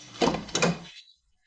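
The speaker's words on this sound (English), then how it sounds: "So let's open the door again and disassemble the structure" A sliding door on a Mercedes Vito W639 van is opened during window regulator repair, with a sharp latch clunk followed by a rolling slide and a second thud, close and loud, then silence.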